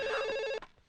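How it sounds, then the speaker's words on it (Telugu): An indoor telephone rings in a comedy film scene: a loud, bright electronic ring with a rapid trill that cuts off abruptly partway through, leaving a faint quiet tail. "ఫోన్ రింగ్ అవుతుందండి"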